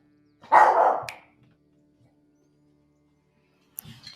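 Single dog bark, close and fairly loud, followed by quiet and a faint brief noise near the end.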